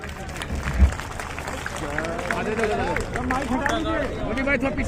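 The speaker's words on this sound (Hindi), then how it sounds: "नीचे जोरदार तालियों से एक बार और स्वागत" A crowd at a farmers' protest at the Gazipur border applauds to welcome a speaker, a thump followed by steady clapping spread through the crowd, running under someone talking over a loudspeaker.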